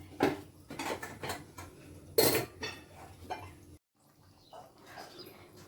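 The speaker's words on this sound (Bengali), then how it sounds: "তরকারিটা নেড়ে নিচ্ছি।" A metal spoon stirring a vegetable curry in a cooking pot in a home kitchen, giving several sharp clanks and scrapes at irregular intervals, then a short quiet stretch with softer clinks.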